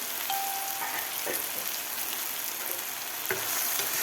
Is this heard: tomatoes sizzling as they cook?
yes